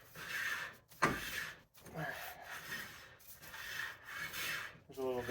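A rear disc brake rotor on a Dodge L-body car with a five-lug conversion is spun by hand and drags slightly, making a steady rasping, rubbing whir. The whir is close and continuous, with a few brief breaks.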